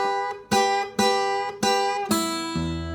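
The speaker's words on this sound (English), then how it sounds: "this train whistle sound where you're in E" Acoustic blues guitar in E plays a train-whistle lick: five bright struck chords ring out in turn, each bent upward toward the major third, with a low bass note entering at the end, close and clear with no talking.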